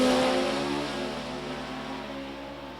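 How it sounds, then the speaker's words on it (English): A four-cylinder Chevy dragster in a Chevy Lumina body, running a 290 cubic inch engine with an automatic, roars at the drag strip, its loud steady drone slowly fading as it pulls away. "The 4-cylinder just has a sound of its own, doesn't it?"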